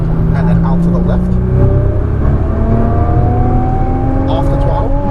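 A Nissan GT-R accelerating around a race track, its engine rising steadily in a loud, continuous whining drone with climbing pitch, heard from inside the car while someone talks over it.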